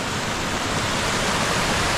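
A river in flood after devastating rains roars past, fast-flowing water making a dense, steady rushing noise, loud and close, with no voices.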